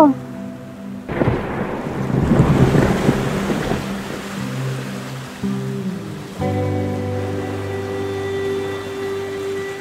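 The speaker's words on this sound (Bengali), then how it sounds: "এখন তো প্রতিদিনই কম বেশি বৃষ্টি হচ্ছে" Heavy rain with rolling thunder: a loud crack and rumble building then fading over steady rainfall, with a low droning hum joining later.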